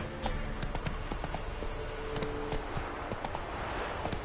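Horse hooves clip-clopping in The Witcher 3, a steady walking rhythm of close, moderately loud hoofbeats over a constant ambient background, with no talk.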